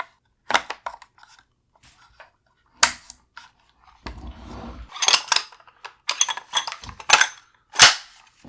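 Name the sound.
inserting bolt carrier group into Springfield Hellion rifle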